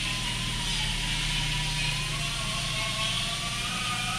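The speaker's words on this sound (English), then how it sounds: "Start engine and let it idle." A 2022 Hyundai Tucson engine idling, a steady low hum with a faint whirring tone slowly rising above it, close and continuous without revving.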